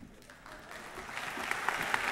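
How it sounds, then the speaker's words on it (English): An audience at a high school graduation and closing ceremony claps, a soft, fairly distant patter that builds slightly over a couple of seconds. "You're clapping, but you don't know what the award is yet."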